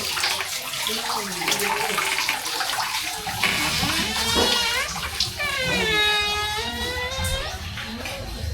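Water from a shower in a campsite bathroom at a farm in Tanay, a continuous rushing hiss lasting the whole stretch, fairly close and loud, with faint voices mixed in.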